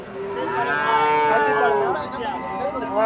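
A Holstein Friesian cow moos loudly at a busy Bangladeshi cattle market, one long drawn-out call that rises and falls over about two seconds while crowd noise hums behind it.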